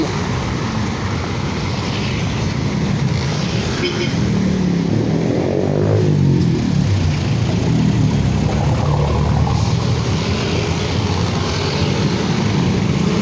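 Car engines in slow, heavy road traffic on a long jammed stretch, a steady broadband rumble of idling and creeping vehicles that stays constant throughout, with no clear voices.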